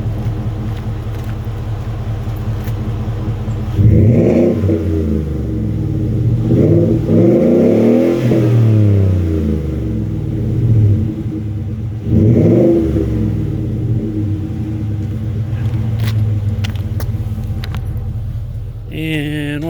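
A 2016 Ford F-150 with a 5.0 V8 and Flowmaster Super 50 side-exit exhaust idles with a deep rumble, then revs hard three times in rising, falling bursts before settling back to idle, close and loud.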